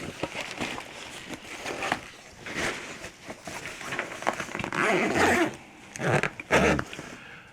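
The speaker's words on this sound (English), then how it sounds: "And zip up like that" The side pocket of a Vanguard Veo T45M camera bag is zipped shut in several close, rasping pulls, with handling rustles between them.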